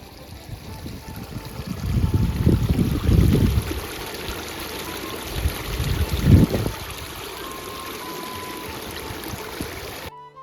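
Water from a small stream runs beside a muddy forest footpath on the way to Tringalwadi caves near Nashik, a soft steady flow with louder splashing surges as someone wades through.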